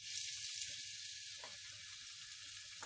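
Ground garlic dropped into hot oil in a pan for aloo gobi, giving a steady loud sizzle and hiss that holds throughout with a slight crackle.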